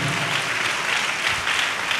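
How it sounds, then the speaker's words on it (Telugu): Church congregation clapping hands loudly together, a dense, steady roar of applause filling the room for a couple of seconds. "ఒకసారి గట్టిగా చప్పట్లు కొట్టి దేవుడు మహింపరుద్దాం"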